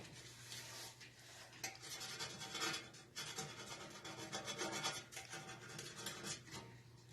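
A razor blade scrapes burnt-on gunk loosened with cream of tartar and vinegar, making a faint, close, continuous gritty rasp with short uneven strokes and no voices.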